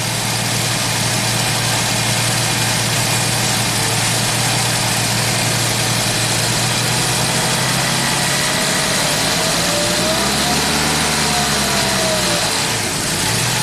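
A 1990 Jaguar XJS V12 engine idles with a steady, close rumble, then its idle rises and falls in a slow surge near the end.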